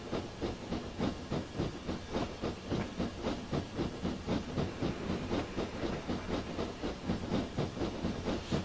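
A BR Class 6MT Clan steam locomotive in Train Simulator 2015 on the Western Lines of Scotland chuffs in a steady, even rhythm, with a continuous hiss of steam running under each beat throughout.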